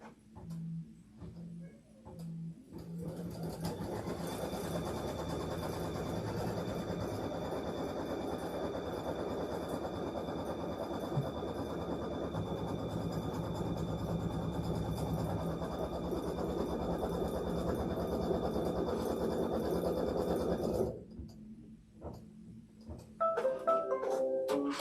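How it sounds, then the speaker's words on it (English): A embroidery machine stitches a placement stitch with a quiet, steady mechanical whir and rapid needle rhythm. It runs continuously for nearly twenty seconds, then stops, followed by a few faint handling sounds. "Let's do our placement stitch."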